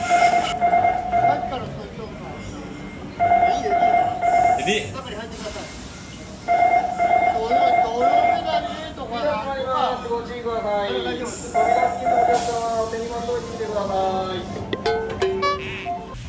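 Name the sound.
train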